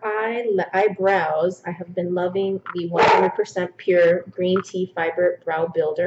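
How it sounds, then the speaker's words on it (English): A pet dog barks to be let back inside during an indoor makeup session, with short barks blending in beneath continuous close talking. "And that is the dog who wants to now come back in."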